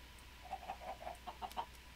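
A run of short chicken clucks in a video game, about eight in quick succession, over a steady low hum, with no voices.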